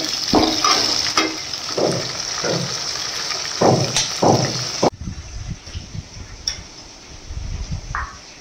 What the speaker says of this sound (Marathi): हे शेंगदाणे पण याच्यामध्येच टाकून देत आहे, म्हणजे हे एकत्र पूर्ण शिजून जाते। छान फ्राय पण होते चांगले।